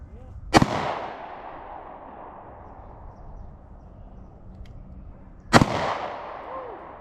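Two sharp, loud gunshots ring out several seconds apart at an outdoor target shooting party, each with a crack and a rolling echo that decays into quiet.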